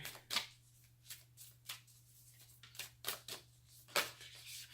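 A deck of tarot cards is handled and shuffled in a run of soft, papery riffles and slides, close and fairly quiet with short pauses between.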